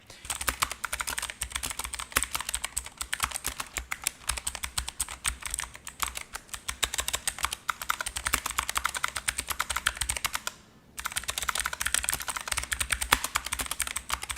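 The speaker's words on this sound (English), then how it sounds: "The keys are responsive and wonderfully clicky, and best of all, the blue switches are loud and satisfying." Rapid, crisp clicking of an ASUS TUF K3 mechanical gaming keyboard with blue switches, steady and continuous with a brief pause near the end, loud and close.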